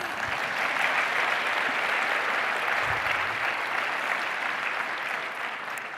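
Conference audience applauding after an award announcement, steady sustained clapping from many hands for several seconds with no voices over it.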